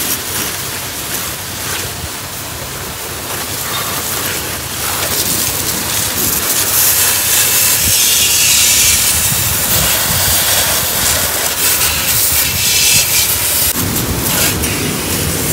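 Water is sprayed hard onto a Royal Enfield Bullet engine at a service station, making a steady loud hiss and splash that runs the whole time, with no talk over it.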